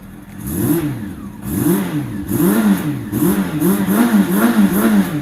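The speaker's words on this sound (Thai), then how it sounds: "เดี๋ยวมาฟังเสียง" Close by, a 2005 Honda CB400 V-TEC III motorcycle engine revs in a string of quick throttle blips, pitch swooping up and down, steady and loud with no talking.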